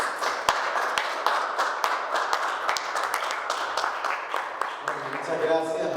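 Audience applause at a water-studies talk, a dense wash of many hands clapping that fills the whole stretch at steady volume, with a few sharper individual claps standing out and a voice entering near the end.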